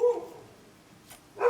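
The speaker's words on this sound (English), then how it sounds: "This is my dog barking outside." A dog barks outside a home studio, two sharp barks separated by a quiet pause, heard at a moderate distance and fairly faint, with no talking.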